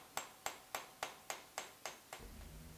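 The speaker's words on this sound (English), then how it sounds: "It's about hammering the metal solid and changing its dimension" A silversmith hammers cold, solid silver with eight evenly spaced ringing metallic blows, each with a short decay, followed by a low rumble; the strikes are quiet and clear with no talk.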